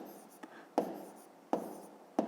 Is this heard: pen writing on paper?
yes